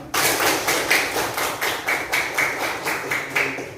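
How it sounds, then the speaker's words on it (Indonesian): Classroom of eighth-grade students clapping in a rhythmic, patterned beat, close and loud, with repeated pulses of claps and no talking. "Tepuk tangan untuk kalian semua."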